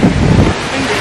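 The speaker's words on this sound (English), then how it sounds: "And it's windy." Gusty wind buffets the microphone outdoors at a fireworks festival after dark, a loud, low, rumbling roar filling the whole second.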